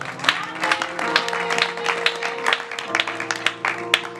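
A church congregation in Kinshasa applauding, loud rhythmic clapping with sharp peaks running throughout, near and full, with a held tone from an instrument underneath.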